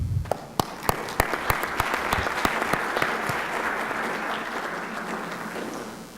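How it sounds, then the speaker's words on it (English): Audience applause for the speakers at the close of a session at a UN–Mexico space technology event: a few sharp, distinct claps open, then swell into steady, moderately loud clapping from the whole room that continues evenly to the end. "so an applause for all the speakers"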